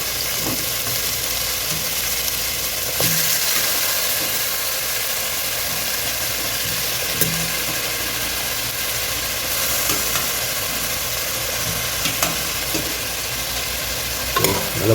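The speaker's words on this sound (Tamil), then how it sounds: "மட்டன் பாயில் வச்சு நண்பா இங்கே பாருங்கள்" Mutton pieces boil in a pot for bachelor dum biryani, giving a steady broadband bubbling hiss that stays even throughout, with a few faint clinks and no talking.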